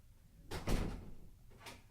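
A door opens with a soft thud and rattle, followed moments later by a lighter knock of the door or latch, heard close in a quiet room.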